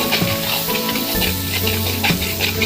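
Food sizzles and fries steadily in a pan with turmeric and salt, a dense continuous crackle with occasional stirring scrapes, close and loud with no talking.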